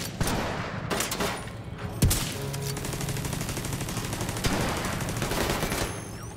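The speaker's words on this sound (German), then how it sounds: "Wer ballert denn da hinten?" Video game gunfire in The Division 2 rattles almost continuously as rapid automatic bursts, with a few heavier single shots cutting through the steady fusillade.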